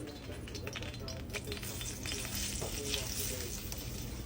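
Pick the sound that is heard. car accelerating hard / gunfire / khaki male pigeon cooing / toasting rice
toasting rice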